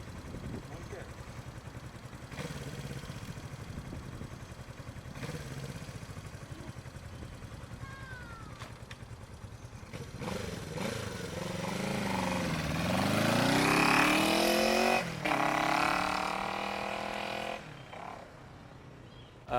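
A 1975 Honda CB360 motorcycle kick-started, its engine catching and revving up with rising pitch before settling back to a steady run, with people talking nearby over the start.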